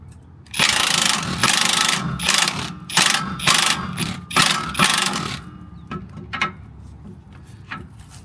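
Bursts of a pneumatic or ratcheting tool whir and rattle in short loud runs, loosening rusty suspension bolts on a 2016 Chevrolet Silverado during a Rough Country 3.5 inch lift install.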